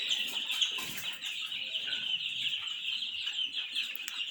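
Chickens on a poultry farm holding a batch of about 300 birds, clucking steadily as a busy, overlapping flock, with a constant high chatter and no talk.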